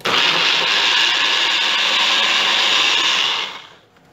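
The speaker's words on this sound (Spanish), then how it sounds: "Vamos a licuar esto que hemos puesto aquí en la licuadora" A blender blending adobo sauce for carne adobada whirs loudly and steadily for about three and a half seconds, a high-pitched motor roar that then cuts off and winds down.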